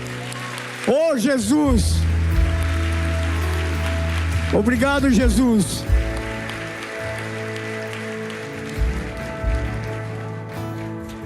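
A church congregation claps in a steady wash of applause while a preacher's amplified voice calls out loudly over it.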